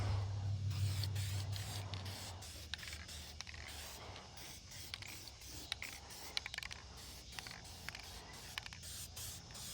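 Short bursts of aerosol spray paint hissing onto a finned aluminum valve cover, a few quick light passes with pauses, mixed with small clicks and handling noises, no one talking.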